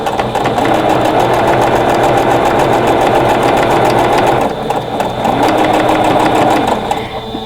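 Sewing machine fitted with a 1/4 inch piecing foot stitching fabric in a steady, fast mechanical whir, close and loud, with a brief slowdown midway before resuming.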